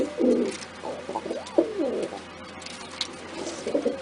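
A pet pigeon coos nearby, with a few low rolling coos heard close and fairly clear over faint background noise, with no talk.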